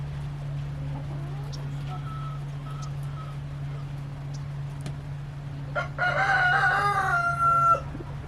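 A big black rooster that survived a fox attack crows once near the end, loud and close, over a steady low hum and faint background chirps.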